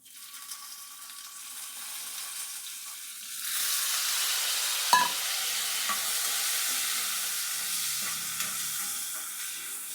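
Tomatoes for chutney drop into hot oil in a pan and frying erupts into a bright, steady sizzle partway through, with a clack of the spoon and stirring, close by, no voices.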